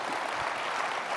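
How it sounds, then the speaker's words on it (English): An audience applauds the speakers at the close of an economic outlook event, a dense, steady wash of clapping with no pauses throughout. "how about a big round of applause and thank you to Andrew and Mark"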